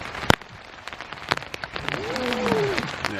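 Rain patters on a small teepee tent, dense scattered drops with a few sharper taps close by, steady and moderately loud throughout.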